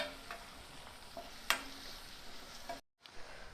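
Finely chopped onion frying in a pan for a wild-vegetable bhaji, a faint steady sizzle with an occasional sharp clink of a spoon on the pan and a short silent gap near the end.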